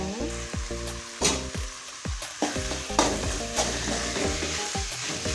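Cooked rice is stirred into a sizzling tomato rice mixture in a pan, with a spoon clanking and scraping rhythmically against the metal over a steady hiss, close up and without speech.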